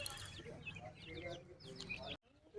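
Several chickens cluck and squawk close by in a busy jumble, with people talking over them before a brief pause.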